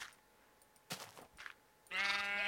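A sheep bleats once in the Minecraft game, a loud, harmonic, wavering cry filling the last half-second, preceded by a few short, sharp noise bursts; no talking.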